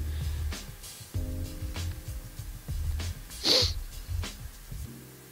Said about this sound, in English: Has anybody else ever felt hungrier after a sneeze?